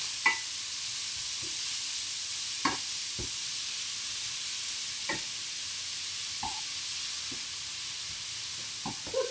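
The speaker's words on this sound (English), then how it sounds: "Just very quickly just to fry it so it's a little bit softer." Ingredients for egg muffins fry briefly in a pan, a soft steady sizzle with scattered sharp clicks and scrapes of stirring, close and fairly quiet with no voices.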